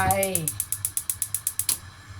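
A gas stove igniter clicks rapidly, about a dozen evenly spaced ticks close by, after a brief voice at the start.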